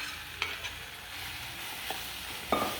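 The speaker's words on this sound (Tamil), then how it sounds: "வெங்காயம் நல்லா வதங்கிட்டு இப்போ நம்ம வேக வச்சுருக்கிற கடலையை இதோட நம்ம" Boiled chickpeas are stirred into onions frying in oil for a chana masala gravy, giving a soft steady sizzle with a few clinks and scrapes of the spoon against the pan, close and fairly quiet.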